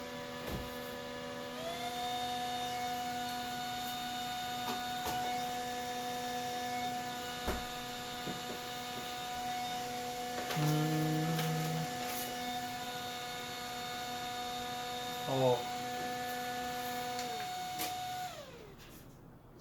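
A compact Bluefeel electric fan runs on its second speed setting, giving a steady close-up motor hum with faint whirring air, broken by a couple of brief clicks and ending with the motor winding down.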